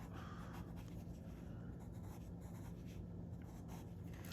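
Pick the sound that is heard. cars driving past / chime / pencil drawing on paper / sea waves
pencil drawing on paper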